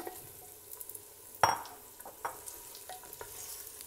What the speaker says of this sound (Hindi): और चिकन का कलर चेंज हो जाने तक हम इसको फ्राई करेंगे